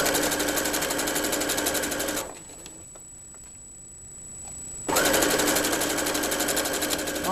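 A sewing machine stitches a Christmas stocking in steady, loud rapid bursts. It runs for about two seconds, pauses briefly, then runs again.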